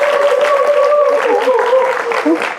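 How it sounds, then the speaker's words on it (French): Applause from a studio audience greets a journalist and event presenter as she walks onto a Beninese television youth show, a steady, loud wash of clapping, with a voice and crowd sounds carrying over it. "sous vos applaudissements"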